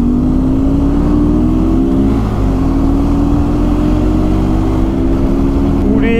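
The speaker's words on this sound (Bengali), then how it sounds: "উড়ে বাবা, সাইলেন্সার মনে হয় খোলা বাইকের," A KTM Duke 250 motorcycle with an open silencer accelerates on the road, giving a loud, continuous engine drone that climbs steadily in pitch over several seconds, with heavy road and wind noise underneath.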